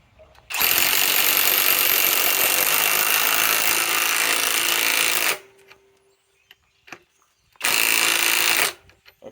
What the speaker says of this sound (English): this is the right angle impact wrench with a 4 amp ultimate output battery